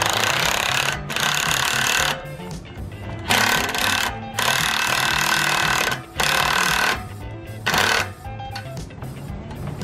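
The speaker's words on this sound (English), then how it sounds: "We're gonna use an impact for this one." An impact wrench tightens roof rack bolts on a 5th-gen Toyota 4Runner, loud rattling hammering bursts of a second or two each, separated by short pauses, repeated about six times up close.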